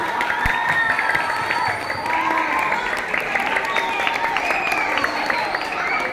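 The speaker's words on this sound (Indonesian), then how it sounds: "Berikan tepuk tangan yang meriah." A school audience at a 2023 student council (OSIS) candidate debate at MTs Nurul Ulum Jembayat applauds the candidates: a steady, dense wash of clapping and crowd noise that holds for several seconds, with voices mixed in.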